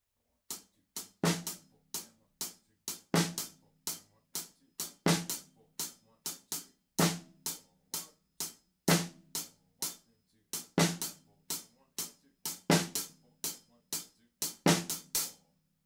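A steady drum groove from a song repeats alone, with sharp evenly spaced hits and accented low kicks marking each bar, close and clear.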